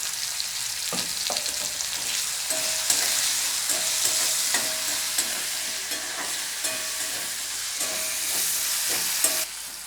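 Sliced carrots with salt frying and being stirred in a pan for spicy pithe: a continuous bright sizzle, with regular scrapes and knocks of the spatula against the pan, close up and without any talk.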